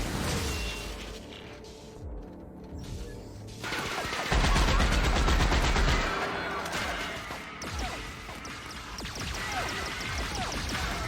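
Weapon fire in The Outer Worlds comes as sustained loud automatic volleys with crashing impacts, which thin out into scattered shots and clatter.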